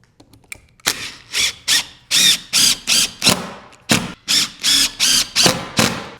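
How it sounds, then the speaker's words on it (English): A drill drives screws into a wall stud while prepping a gas fireplace surround for Versetta Stone, with a series of short, loud, repeated bursts of whirring and grinding separated by brief pauses. "I want 2 screws going in to the stud here."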